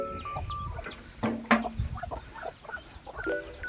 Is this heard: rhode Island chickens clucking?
yes